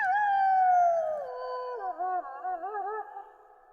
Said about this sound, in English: As she fell asleep that night, Laura heard a wolf's cry from somewhere far away on the prairie